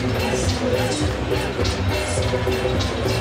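Stadium crowd at the Hong Kong Rugby Sevens cup final between England and New Zealand, a dense, loud roar of cheering and babble filling the arena continuously.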